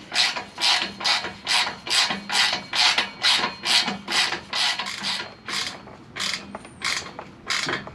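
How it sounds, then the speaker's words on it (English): A wrench ratchets a 12mm bolt tight on a Toyota Tundra exhaust, with about twenty close, rhythmic rasping clicks that slow and fade toward the end, no voices. "then you can really go ahead and tighten this 12mm bolt down nice and snug"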